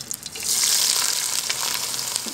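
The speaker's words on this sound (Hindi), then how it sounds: "तो ऑयल हमारा यहाँ पे अच्छी तरह से गर्म हो गया। अब हम इसमें डालेंगे करेले।" Bitter gourd (karela) pieces dropped into hot oil in a wok, giving a loud, continuous hissing sizzle with crackly bursts throughout, up close and with no talking.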